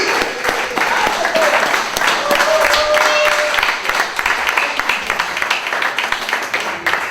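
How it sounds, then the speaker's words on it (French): A church audience claps in sustained applause during a sermon, a dense, moderately loud wash of hands that holds steady with slight swells, a voice faintly heard beneath it. "Les gens ont seulement applaudi."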